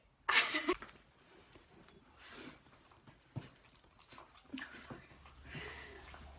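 A dog whimpers and whines in short, high-pitched bursts, loudest at the start, then trailing into softer scuffling and faint whines.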